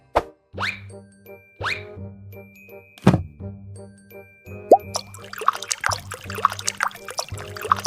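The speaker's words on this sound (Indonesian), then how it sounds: "Tinggal sedikit diaduk-aduk supaya airnya kecampur rata." Water stirred in a container to blend a mixture, heard as several distinct close plops and clunks over ringing tonal notes, followed by busier sloshing and splashing toward the end.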